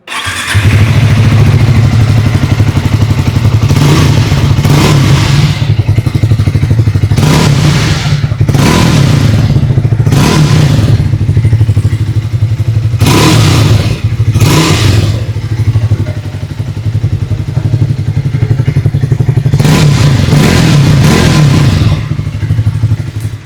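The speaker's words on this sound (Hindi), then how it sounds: "आइए अब सुन लेते हैं इस बाइक की एग्जॉस्ट नोट।" Exhaust of a 2026 Triumph Speed T4 motorcycle fitted with accessories: a loud, close idle throughout, punctuated by several sharp revving blips that rise and fall back to the steady thrum.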